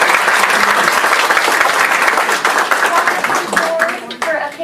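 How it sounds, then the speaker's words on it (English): An audience gives a steady round of applause, dense clapping throughout that thins slightly toward the end, with some voices mixed in. "I just would like to give them a round of applause."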